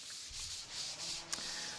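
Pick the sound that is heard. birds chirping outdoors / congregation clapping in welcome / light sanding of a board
light sanding of a board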